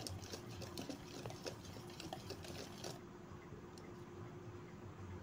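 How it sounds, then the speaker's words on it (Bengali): Banana cake batter is mixed in a bowl, giving wet squishy stirring with rapid clicking scrapes that fade into a softer steady swishing, close and moderately loud, with no voices. "সুন্দর করে মিশিয়ে নেব।"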